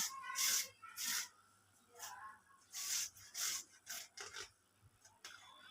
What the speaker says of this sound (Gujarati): આવી રીતના આપણે બટેકું ખમણી લેવું આવી રીતના ખમણી લેવાનું છે